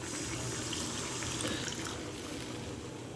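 Water pours steadily into a pan of chilli soybean being cooked with cornflour slurry, a continuous soft splashing hiss lasting throughout, close and even with no voices.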